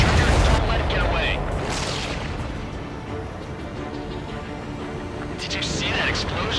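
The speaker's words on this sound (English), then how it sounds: "Did you see that explosion?" Booming blasts in the Ace Combat 7 flight game as a supply ship explodes, a loud rumbling burst at the start and a second roar near the end over a steady aircraft drone.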